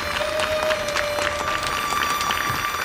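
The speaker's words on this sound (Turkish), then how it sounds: "Alkışlıyoruz." An audience applauds, a dense patter of clapping from a crowd that carries steadily through, with a faint tone held underneath.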